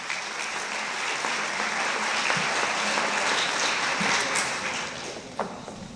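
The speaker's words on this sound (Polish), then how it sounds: "Podwójne brawa dla Karola" A school gala audience in Mielec gives a student a long, sustained round of applause, a thick, even wash of clapping from many hands that holds steady for several seconds before tapering slightly at the end.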